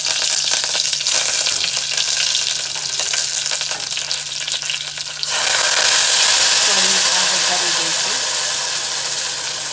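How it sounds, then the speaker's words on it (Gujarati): Loud, constant crackling and spitting of cloves frying in hot oil for a tempering, close up, growing harsher partway through. "વઘાર થઈ ગયો છે લવિંગ ફૂટે છે અંદર"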